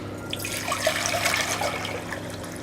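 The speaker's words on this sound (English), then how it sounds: "I'm going to put some boiling water in this saucepan" Boiling water pours steadily into a saucepan with a continuous splashing, gurgling rush, close by and fairly loud.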